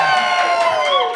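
A live show audience at the Field Goal Club cheers and whoops loudly, a dense crowd roar with high voices and scattered claps.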